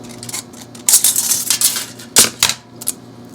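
Scissors snip through light recycled craft material to cut out flower pieces, making bursts of crisp, close clipping and rustling sounds in quick irregular runs.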